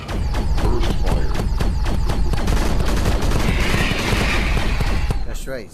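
Rapid, loud bursts of gunfire from the VR shooter game Crashland crack in quick succession, then break into a denser rattle before cutting off abruptly.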